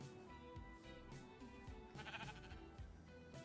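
A naturally spawning pink sheep in the video game Minecraft bleats a few times, faint and close, over quiet background music.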